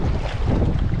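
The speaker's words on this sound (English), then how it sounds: "Wind is wreaking a little havoc." Steady wind buffets the microphone by the Beaverkill River in the Catskills, New York, during fly fishing, a continuous low roaring rush with no pauses.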